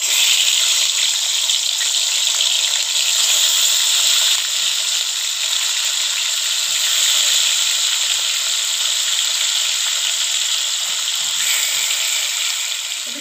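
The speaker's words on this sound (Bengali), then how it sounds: "এদিকে মাছ ভাজা হচ্ছে" Rohu fish frying in hot mustard oil, giving a loud, steady, close sizzle and hiss that runs unbroken with no voices over it.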